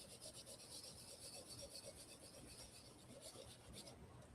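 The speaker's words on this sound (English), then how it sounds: "I'm going to use it to do my ginger" Steady, faint rasping as fresh ginger is rubbed across a kitchen grater tool, a continuous scratchy texture with slight rhythmic strokes, close and alone without talk.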